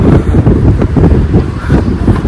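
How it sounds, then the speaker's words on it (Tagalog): Strong gusting wind buffets the microphone with loud, low roaring rumbles that rise and fall continuously. "Narinig po ba ninyo, oh? Lakas na hangin."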